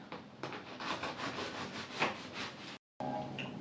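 A knife saws through bread slices for avocado and boiled-egg bruschetta in a steady run of rasping back-and-forth strokes, close and moderately loud, broken by a brief silence before one more short scrape.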